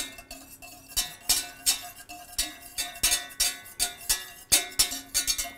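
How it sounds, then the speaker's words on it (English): A whisk stirs turmeric into milk warming gently in a pot, making steady, rhythmic metallic clinks against the pan that repeat every fraction of a second, close and clear with no talking. "now I'm going to whisk that in as this is gently heating"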